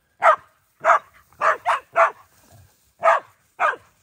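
Several sharp barks from hunting dogs during a pig hunt in central New South Wales, in an irregular sequence, close and loud, with brief silences between them.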